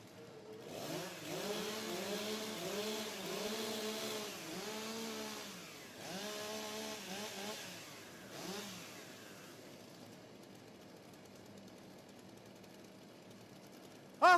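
Chainsaws rev up in bursts at a STIHL Timbersports rookie world championship, several rising and falling engine surges in the first half, then tapering to a low idle and near quiet before a sharp final blip.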